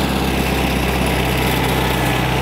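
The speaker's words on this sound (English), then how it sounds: "So we start the tractor up here" A tractor fitted with a front loader and log grapple idles steadily nearby, its engine a constant, even drone with a low throb and no change in pace.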